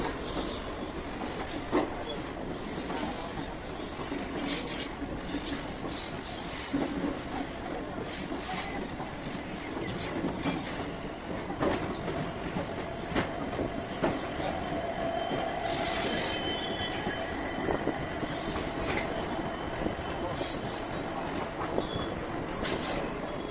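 A train rolls steadily near Lumding station in Assam, a continuous loud rumble of wheels and carriages with occasional squeals and rattling clicks, close by and sustained throughout with no talk over it.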